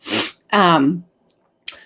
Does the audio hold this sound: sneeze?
yes